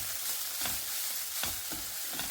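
Fenugreek and coriander leaves fry in a pan with a steady bright sizzle, broken by a few soft stirring scrapes, close and alone without talk.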